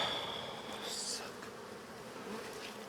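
Bees buzzing close by, a steady droning hum with a higher whine rising and shifting as individual insects pass.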